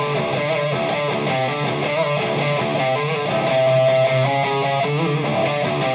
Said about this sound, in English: he's using a wah-wah pedal, and it sounds like this